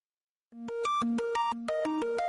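A phone ringtone begins after a short silence and plays a bright, repeating electronic melody of quick stepped notes. It is loud, close and steady, with no voices over it.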